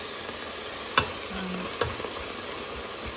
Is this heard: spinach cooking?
yes